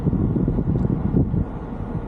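Wind at a marina while a boat is being moored, a continuous low buffeting roar of gusts against the microphone, fairly loud and without any voices.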